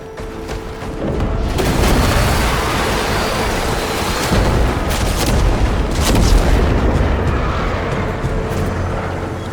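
In the video game Warframe, cannon fire and explosions from the old Macvoss cannon roll on as a loud, sustained rumbling barrage after a brief quieter opening.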